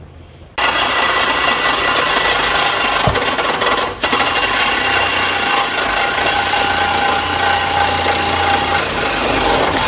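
Exhaust pipe being cut out of a second-generation Cummins truck with a power tool, a loud continuous grinding rasp running almost throughout after a brief quieter start, with a short dip near the middle.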